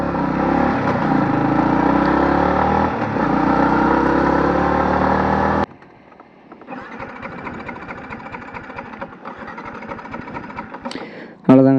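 A Yamaha MT15 V2 motorcycle engine running loud and steady, then cutting to a quieter, sputtering putter, and ending with a sudden short burst as it is started again.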